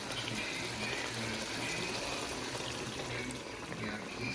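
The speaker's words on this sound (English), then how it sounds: "I'm going to put 2 cups of water" Water pours steadily into a pot of Creole chili with beans, a continuous rushing gush lasting several seconds, close and fairly loud with no talk over it.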